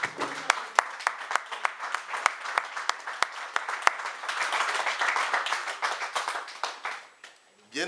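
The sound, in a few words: congregation applauding to acclaim God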